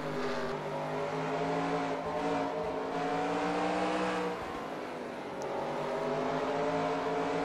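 A race car's engine drones steadily from the in-car camera of the number 18 car at Circuit of the Americas in a sim racing game, a sustained harmonic whine with slight pitch shifts through a corner.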